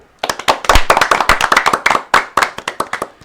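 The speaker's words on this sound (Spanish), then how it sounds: "Vamos a darle un fuerte aplauso" Clapping at a talk on mental health and society, a handful of sharp, loud hand claps close by in an irregular burst lasting about three seconds, with no voices over it.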